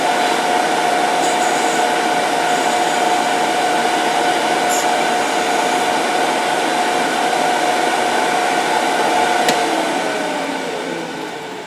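A wood lathe turns a spinning top as a beading tool cuts it off. A steady, loud mechanical whine and hiss runs throughout, then fades as the lathe winds down at the end.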